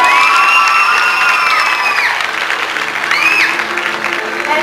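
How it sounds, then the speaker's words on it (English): A crowd at a 1990 state fair twirling show applauds and cheers loudly for the coach, with whoops and children's shouts rising over steady clapping throughout. "How about a round of applause for our coach,"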